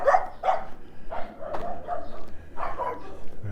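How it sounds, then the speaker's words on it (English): A dog barking on a residential street in the Lakeview area of Regina, a series of sharp barks in irregular bursts, moderately near. "Yes, he's barking at me now."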